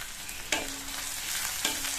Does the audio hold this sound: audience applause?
no